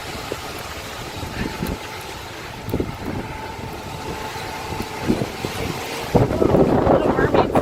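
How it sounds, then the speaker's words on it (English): Wind buffets the microphone outdoors while walking through the grounds of a Disney resort, Art of Animation, a steady low rumble with gusts that grow stronger and louder near the end. "It is windy."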